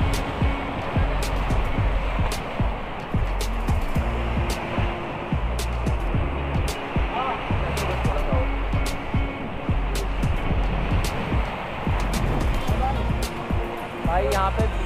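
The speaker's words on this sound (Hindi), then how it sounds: "देखो कितना खतरनाक आ रहा है" Rough sea waves crashing at Haji Ali Dargah in Mumbai, a loud continuous roar of surf and wind-driven water filling the whole stretch, with repeated thumps and someone talking beneath it.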